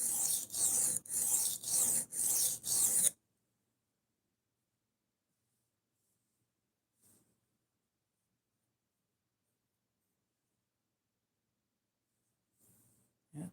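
Knife edge being reprofiled on a sharpening stone: five quick, rhythmic rasping strokes at close range, then near silence with a couple of faint small noises.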